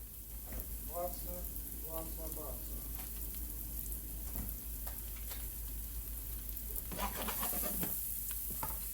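Vegetables sauté in butter in a pan, sizzling steadily throughout with stirring scrapes and clinks, while someone talks briefly over the cooking.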